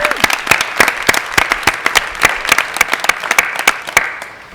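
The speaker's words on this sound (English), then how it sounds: "Round of applause for these returning members" Applause from an audience at a Science National Honor Society induction ceremony, a few seconds of close, crisp individual claps in an irregular patter that fades toward the end.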